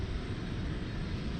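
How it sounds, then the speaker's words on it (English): MD-11 aircraft engines at Dallas Fort Worth International Airport give a faint, steady, distant rumble that continues evenly through the moment, with no speech. "Look at that, we got some MD-11 action."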